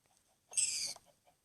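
A single short chicken cluck from the video game Minecraft, one brief bright burst standing out against near silence.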